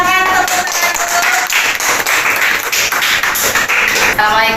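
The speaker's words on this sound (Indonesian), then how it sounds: "Silakan tepuk tangan dulu." Students clap together in a school classroom, quick uneven hand claps mixed with shuffling, with chatter audible through the group applause.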